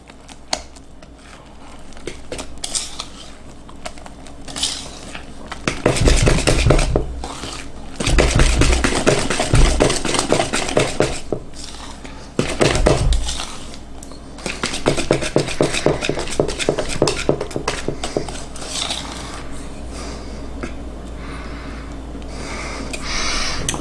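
A spoon works honey into cornbread batter in a bowl, with scraping, clinking strokes that come in loud bursts and short pauses, close up and without talk.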